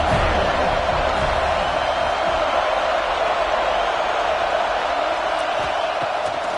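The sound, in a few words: stadium crowd cheering at a football game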